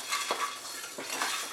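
Whole spices, black pepper, fennel, cumin and coriander, dry-roasting in a kadai over medium heat, with a light rattle and a couple of spatula scrapes against the metal.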